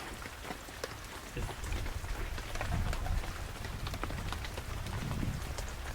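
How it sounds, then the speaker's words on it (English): Steady rain falls outside a control tower at an abandoned naval air station, a dense, even patter of drops running continuously at moderate volume with no voices. "it's raining, which means we can't fly the drones yet"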